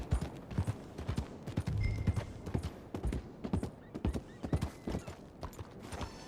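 Horse hooves clip-clop in Red Dead Redemption 2 as a rider arrives at a miners' settlement, a steady rhythmic trot of close, moderately loud hoofbeats with occasional creaks of tack and a faint whinny.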